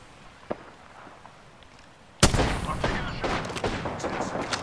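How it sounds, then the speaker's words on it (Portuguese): A faint crack, then a sudden loud burst of rapid gunfire in Apex Legends that keeps rattling on in a dense, continuous volley. "Nossa, 4 tiros, Júlio."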